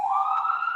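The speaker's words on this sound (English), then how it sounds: "Thank you for the sirens." A loud emergency vehicle siren holds one steady rising wail, close and alone with no other sound over it.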